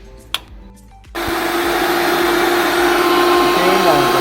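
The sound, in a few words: electric fan on a solar-powered car switched on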